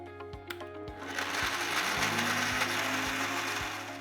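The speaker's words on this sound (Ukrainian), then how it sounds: "Додаємо трохи олії волоського горіха та збиваємо" A blender whirs up and grinds walnuts with walnut oil into paste, starting with a few mechanical clicks before settling into a steady, fairly loud whirring hum.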